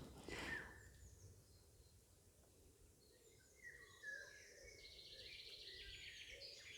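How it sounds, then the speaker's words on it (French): Birds sing faintly in the distance with scattered chirps and short warbled phrases over a quiet background hum. "d'avoir ce temps de l'écoute de ces magnifiques chants d'oiseaux"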